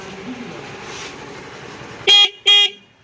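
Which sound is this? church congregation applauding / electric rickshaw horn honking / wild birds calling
electric rickshaw horn honking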